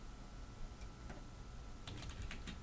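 Faint, quick keystrokes on a computer keyboard, a few scattered taps and then a short burst of typing close to the microphone over a low background hum.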